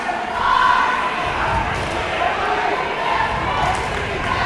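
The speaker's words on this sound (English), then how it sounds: "Cheerleaders energizing the crowd" A basketball crowd at a high school game between USN and Antioch roars steadily throughout, with cheerleaders rousing the stands during a free throw; a dense, loud wash of cheering and chatter with no clear pauses.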